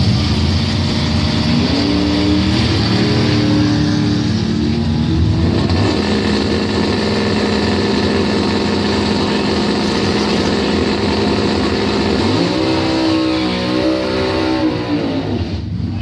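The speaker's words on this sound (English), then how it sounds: "Red Baron Dragster, 631 dial in. Taking on Dan Snyder. The Camaro out of Harrison, a 735 dial in" Drag race launch between a Red Baron dragster and a Camaro doorslammer at a Bonfire Salute Top Doorslammer round, engines roaring loudly and continuously with rising revs, a sharp surge of acceleration near the end.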